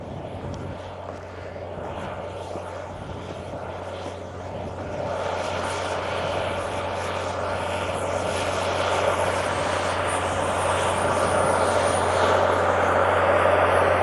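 A big yellow tractor plowing a field at about eight miles an hour sends out a continuous heavy engine drone that swells steadily louder as it approaches across the open ground.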